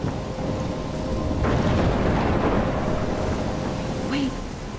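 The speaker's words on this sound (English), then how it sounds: "I'm trapped in a storm?" A heavy thunderstorm in the Life Is Strange video game rolls on with steady rain and a deep thunder crash, loud and enveloping, while a voice briefly speaks over it.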